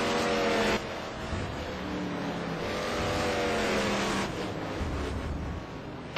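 Big American touring race cars sweep past at the Algarve circuit on fresh tires, a loud engine roar rising and falling as several cars go by in close succession with no talk over them.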